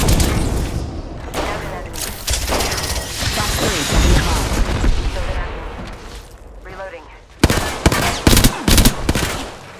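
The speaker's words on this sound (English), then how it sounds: "Opening fire." Rapid automatic weapon fire and booming shots from the Apex Legends battle royale game, with sustained bursts throughout and louder sharp volleys near the end, mixed with game sounds and a voice.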